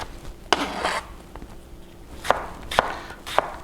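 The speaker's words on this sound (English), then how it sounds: "Now, we're going to chop these tomatoes up." A knife taps and slices tomatoes against a cutting board in a few uneven strokes, close and moderately loud, with soft rustling between cuts.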